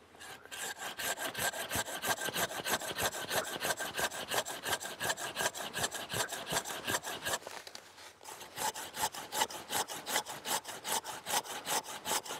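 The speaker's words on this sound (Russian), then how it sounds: "А потом эту ветвь отпиливаем сверху." A well-sharpened hand saw rasps through an old fruit tree branch during pruning, fast, even back-and-forth strokes, with a brief pause before the sawing resumes.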